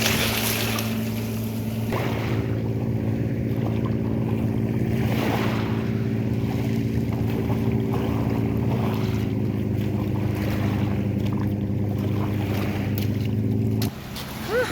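Sea waves at the seaside wash in a steady, continuous roar with wind, a low droning hum running underneath throughout and no talking.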